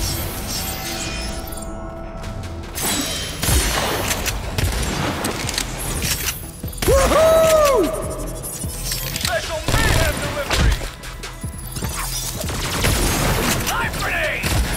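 Gunfire during a firefight in the video game Agents of Mayhem, with bursts of shots and booms scattered through a dense, busy game soundscape, and a voice speaking intermittently.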